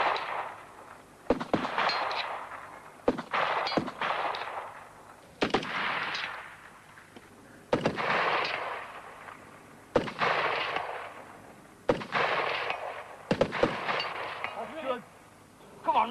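Military gunfire from SA-80 rifles and a light support weapon machine gun during infantry combat training, with repeated loud sharp bursts at irregular intervals and sustained echoing rattle between shots.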